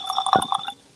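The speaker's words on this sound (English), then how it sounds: "just pouring myself a little Blantons here" Blanton's bourbon poured into a glass: a short, close liquid glug and splash lasting under a second, then quiet.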